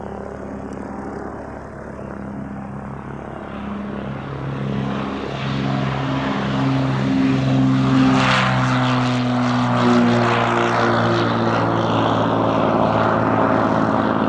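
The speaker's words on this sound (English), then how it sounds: "Runway 26 right, clear for takeoff." Single-engine propeller airplane departing runway 26 right at Spirit of St. Louis Airport, its engine building from a steady drone to a loud, full-power roar, then holding near and strong with no talk.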